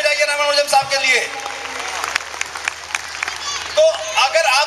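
An audience claps for Ramanujan during a motivational talk on parenting, a short burst of crowd applause with a voice speaking over it.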